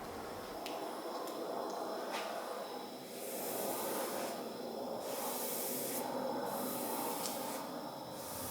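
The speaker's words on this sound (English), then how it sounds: "With my shellac in a squeeze bottle and my applicator, I'm going to do a wash coat of shellac over the tabletop." Shellac wash coat squeezed from a squeeze bottle and spread with an applicator over a sewing tabletop, heard as a steady soft hiss and wet spray-like wash with brief brighter surges, close and fairly quiet.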